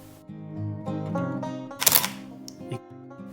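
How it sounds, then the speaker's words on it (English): Canon 20D DSLR shutter firing once, a crisp metallic click close to the microphone, heard over soft background music with no talking. "Now I'm gonna show you the shutter sound"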